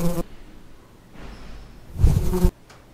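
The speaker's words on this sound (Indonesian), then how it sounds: "Ya, suara serangga lah." AI-generated insect buzzing, like bees, fills the clip in uneven bursts, swelling louder near the end before cutting off abruptly.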